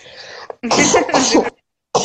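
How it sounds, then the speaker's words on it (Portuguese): A woman coughs in short, harsh bursts close up, with brief pauses between them. No one talks. "Ai, vou tossir bastante, peraí"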